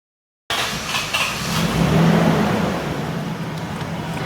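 A 2002 Toyota Crown car engine starts after a short silence and settles into a steady, close idle hum with a low rumble, moderately loud throughout.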